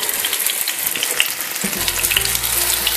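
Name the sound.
paneer tikka frying on a tawa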